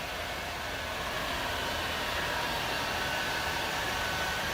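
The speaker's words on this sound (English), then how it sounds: "I'll touch it one more time with the heat gun" A heat gun blows over a hand-laid carbon fiber hybrid panel, a steady close roaring hiss of hot air without a break.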